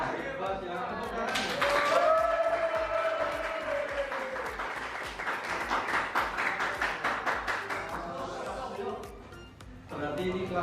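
A classroom of students claps together, a mix of clapping and voices that grows into quick rhythmic applause, with a teacher's voice heard over it before a brief lull.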